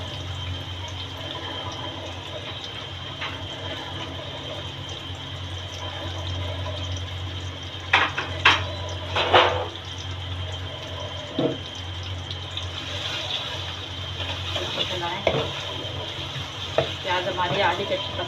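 Chopped onions dropped into hot oil in a pan, a continuous low sizzle with clattering stirring bursts and scraping spoon strokes across the middle and end, close and fairly loud.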